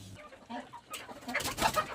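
Free-range chickens peck at black soldier fly larvae, giving scattered soft clucks and pecking sounds close by that grow busier toward the end.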